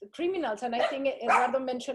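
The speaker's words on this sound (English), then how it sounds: "sorry about my dog, guys" A pet dog barks and yips repeatedly in a home during an online webinar, the short sharp barks overlapping someone speaking close to the microphone.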